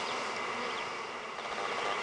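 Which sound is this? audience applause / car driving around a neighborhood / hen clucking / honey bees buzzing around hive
honey bees buzzing around hive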